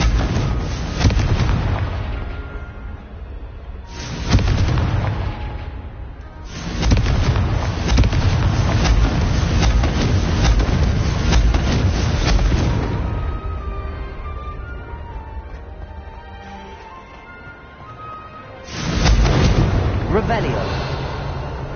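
Confringo spell explosions in Hogwarts Legacy come as heavy, rumbling blasts in several long, loud bursts, separated by quieter stretches with voices, before a final boom near the end.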